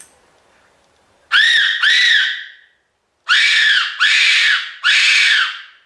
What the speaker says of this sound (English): The other way to make different noises with the Tenterfield whistle